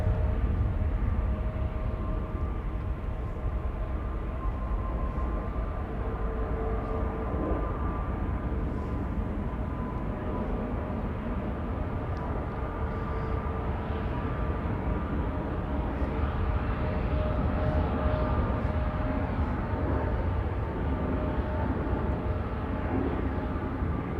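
An airliner bound for Dublin takes off at Amsterdam Schiphol Airport, a broad steady jet roar heard at a distance that holds for the whole stretch with no voices.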